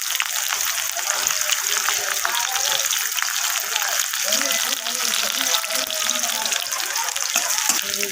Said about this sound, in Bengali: এখানে আমি মরিচটাকে ভেজে নিলাম লাল করে